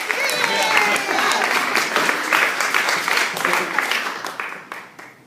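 A small group in a room claps together in steady, sustained applause, fairly close and loud, tapering off toward the end with some voices mixed in.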